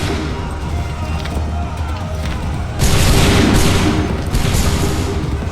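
Musket volleys boom in the video game Assassin's Creed III, laid over dense, loud battle noise. A heavier, sustained burst of massed gunfire comes in about halfway through and keeps rumbling to the end.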